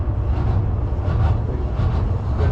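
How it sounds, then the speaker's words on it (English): A DLR train runs on the line behind, heard as a steady low rumbling roar with faint rhythmic swells, fairly loud and continuous throughout. "oh, that's just another DLR train behind us on the line behind us."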